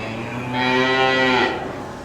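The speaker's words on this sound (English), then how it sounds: "So I'm training my cow for tomorrow's beef show." A young beef show heifer at a county farmer's fair lets out one long, loud moo with a strong harmonic tone, rising and holding for about a second before fading.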